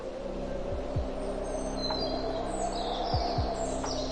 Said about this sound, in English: I don't know what this wee bird is here. I don't think it's a robin.